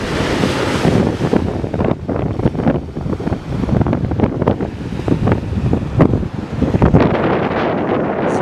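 Waves breaking on the sandy shore of Belyaus spit in Crimea, a steady loud roar of surf mixed with heavy wind buffeting the microphone throughout.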